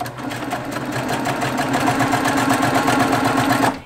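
A sewing machine runs steadily while piecing calico quilt fabric, a close, continuous whirring hum with a fast, even stitch rhythm that holds for several seconds and then stops abruptly.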